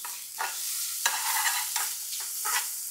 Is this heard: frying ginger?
yes